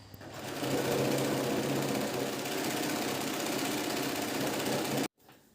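A sewing machine runs steadily while stitching a princess cut blouse, a loud continuous mechanical whir that holds for about five seconds, then cuts off abruptly and ends in a short quieter stretch.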